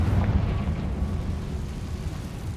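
A Confringo blasting spell explodes in a Harry Potter video game, a loud, low blast at the start that rumbles away into a long, fading roar.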